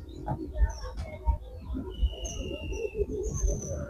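Pet pigeons give low coos and calls, with occasional chirps from other birds above them, in a busy outdoor setting with a constant background murmur.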